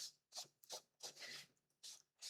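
A wooden home decor block is rubbed lightly by hand in short, quiet, dry rasping strokes, about seven passes with brief pauses between them and no talking.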